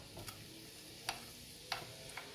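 Cumin seeds crackle in hot oil in a pan with green chilies and onions for paneer bhurji, a few faint sharp pops spaced apart over a quiet low sizzle, with no voices.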